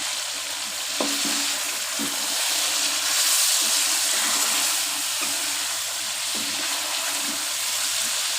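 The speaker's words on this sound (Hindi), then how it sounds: "साथ ही इसमें मैं थोड़ा सा पानी ऐड कर दूंगी।" Water goes into a masala frying in a pan for chicken shahi korma, heard as a loud, continuous close sizzle with occasional stirring clinks and no voices.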